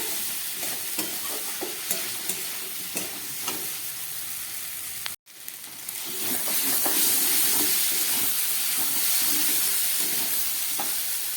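Spice masala frying in a pan for a ridge gourd and prawn curry gives a steady close sizzle with occasional stirring scrapes. After a brief cutout it returns as a louder, brighter, hissing sizzle, with no talking.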